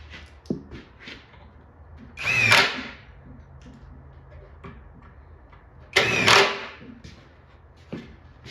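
A power drill drives number 10, 3/4-inch screws into an arcade cabinet during assembly, two short loud whirring bursts a few seconds apart, close by, with quiet handling noises between them.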